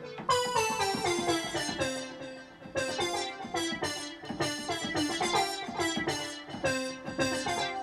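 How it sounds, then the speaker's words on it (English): A synth lead preset called Ploy Fly plays a bright, busy melodic line with quick repeated notes over a steady beat, loud and close with no talking. "This lead is called Ploy Fly."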